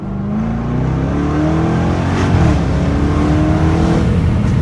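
A sports car engine revs up hard and loud, its pitch climbing steadily as it accelerates, with a rough, throaty exhaust rumble throughout.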